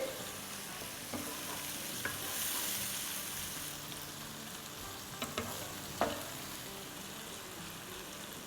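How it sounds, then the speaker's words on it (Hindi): Spice masala frying in a pan over medium flame for a restaurant-style bhindi (okra) curry, giving a steady soft sizzle with a few sharp stirring clinks and scrapes, no voices. "मसाले को जब तक फ्राई करना है जब तक ये थोड़ा सा सॉफ्ट ना हो जाए"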